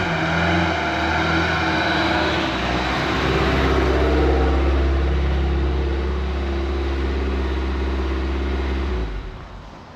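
A Ford Taunus car drives into an inspection hall, its engine humming steadily and loudly up close with a rising and falling tone, then cutting off and fading near the end.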